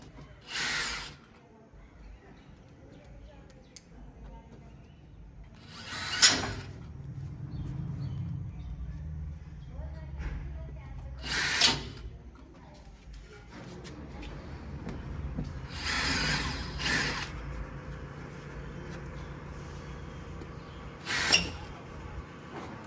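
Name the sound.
reversible power drill screwing and unscrewing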